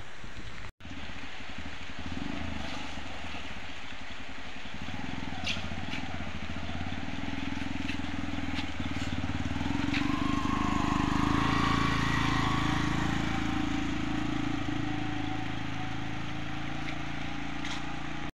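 A motorcycle engine drones steadily for a long stretch as it climbs a hill, its pitch and loudness rising gradually as it labors under load, with wind noise and no speech.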